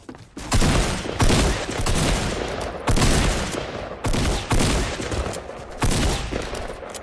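Rapid bursts of automatic gunfire in the video game Fortnite, loud and close, arriving in several repeated volleys separated by short pauses.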